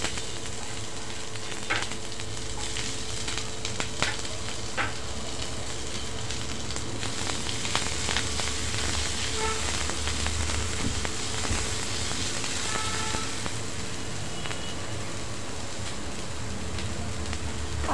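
Onion frying in oil with curry leaves and green chillies for sevai upma, a steady close sizzle and crackle with occasional sharp pops and light stirring, no talking.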